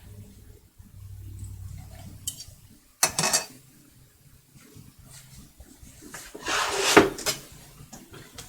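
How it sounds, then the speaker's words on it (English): A kitchen cutting board is swapped for a fresh one, with scattered wooden clunks and knocks, one sharp thump midway and a louder clatter near the end, set against a quiet room with no talking. "I'm going to switch out my cutting board here for a new one"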